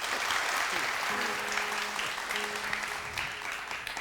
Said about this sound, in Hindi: जोर से बजाइए